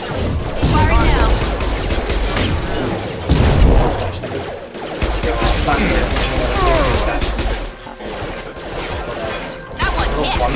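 Gunfire rattles in bursts during a Mass Effect 2 firefight, with sharp shots, impacts and crashes mixed with mechanical clatter, while characters call out over the action.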